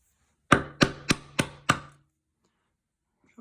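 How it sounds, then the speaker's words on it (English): A chisel chops into wood to cut a mortise for a brass hinge, five crisp, sharp strikes about a third of a second apart, close and clear against silence. "now I would take a chisel and chop it"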